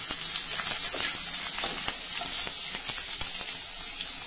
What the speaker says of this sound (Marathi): आता यामध्ये चवीनुसार हिरवी मिरची घालूया।